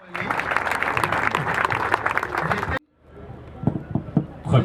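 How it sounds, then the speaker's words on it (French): Church congregation applauding at a memorial service, a dense burst of clapping that stops abruptly, followed by quieter scattered sounds and a few sharp knocks. "applaudissons très fort la parole de Dieu"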